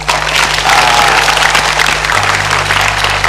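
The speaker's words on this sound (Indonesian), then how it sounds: "Kita beri tepuk tangan untuk penonton kita." A television studio audience gives loud, dense, continuous applause close to the microphone, with a steady low electrical hum running underneath and no voices heard.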